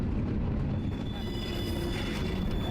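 A cargo train rolls through Tabasco State, Mexico, with a steady, dense low rumble of wheels on rails and a faint high squeal running throughout, close and continuous with no talk.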